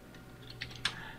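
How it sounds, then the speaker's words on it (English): A few computer keyboard keys are tapped close by to enter a shortcut in Photoshop CS4. The clicks are sharp and quiet, with two clear presses near the end. "hit Control 1"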